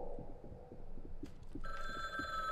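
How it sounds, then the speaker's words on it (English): A telephone rings in the horror video game Occult, a sustained bright electronic bell tone that starts partway through over a low, steady throbbing pulse like a heartbeat, with no talk. "Hello? I can answer the phone."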